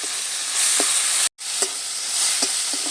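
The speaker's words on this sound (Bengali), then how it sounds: "দিয়ে আমি আবারও একটু নেড়ে চেড়ে নিচ্ছি" Fish curry stirred in a pan after a drizzle of raw mustard oil, with small tangra and chuno fish, thankuni leaves, potato and tomato: steady soft sizzle with occasional scraping clinks of the spoon, briefly cut to silence midway.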